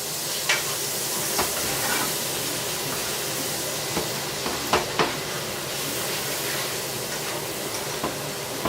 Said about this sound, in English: Okay, so we're just going to stir this around.